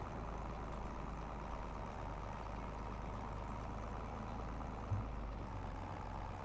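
A small tractor pulling a narrow cultivator in Farming Simulator 25 on an Alpine farm, with a steady, low engine drone and a dense rumble running continuously at moderate loudness.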